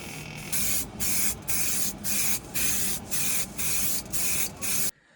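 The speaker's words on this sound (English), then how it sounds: "every time I spray a part of this armour" A spray can hisses in a series of about nine short, loud bursts with brief gaps while painting an armour part in a spray booth, close up, then stops abruptly.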